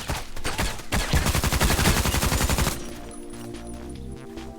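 Rapid SMG fire from the video game Contract Wars (Hired Ops), a loud continuous burst of closely spaced shots for almost three seconds, then quieter game ambience with faint tones.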